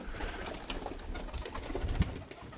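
Tumbler pigeons coo softly in a loft, low murmuring calls amid faint rustling, with a slightly stronger coo near the end and no talking.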